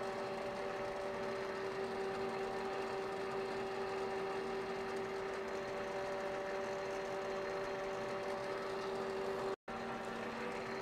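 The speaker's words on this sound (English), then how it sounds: "So we're nearing the end of our automatic facing operation." A South Bend metal lathe runs an automatic facing cut with its power-fed top slide, giving a quiet, steady mechanical hum with a constant whine and one brief dropout near the end.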